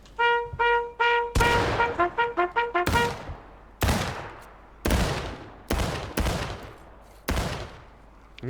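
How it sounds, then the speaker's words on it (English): Muskets fire by files during a War of Rights drill. A quick run of ringing shots with bugle-like tonal bursts opens the sequence, then single loud close cracks follow at roughly one-second intervals, each with a long echoing tail. "Fire by files, commands, fire."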